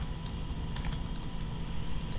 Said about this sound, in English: I'll type SSH Ubuntu